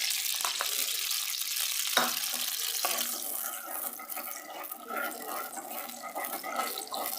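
Two eggs crackle and sizzle in a small amount of hot oil in a pan for restaurant-style vegetable fried rice, a steady close frying hiss with a few sharp pops early on and no talk.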